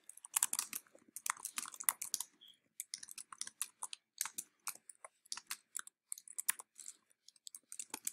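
Fingers type on a computer keyboard in quick irregular bursts of close, crisp key clicks with short pauses between words, no talking.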